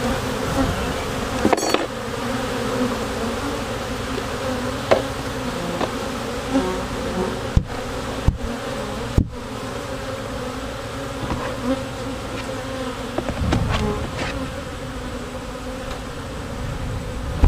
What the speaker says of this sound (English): A lot of flying bees in this.